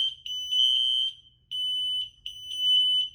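Shrill high-pitched beeping from interconnected smoke alarms after pressing the locate button, in three long bursts separated by short gaps, loud and close, with no talking.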